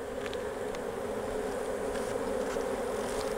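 Honey bees hum in a steady, dense drone from an opened hive being reduced and combined, even and moderately close, with no voices.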